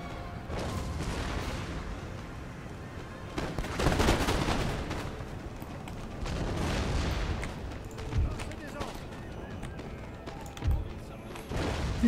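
Howitzer artillery fire on a battlefield in Empire Total War, several heavy booms and thuds spaced a few seconds apart over a steady rumble of distant gunfire, with a voice speaking over it.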